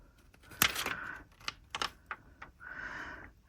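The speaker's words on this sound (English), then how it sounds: "So I'm just going to peel this off." A washi tape sticker is peeled from its backing and handled up close, with crisp crackling tears and papery clicks in short uneven bursts.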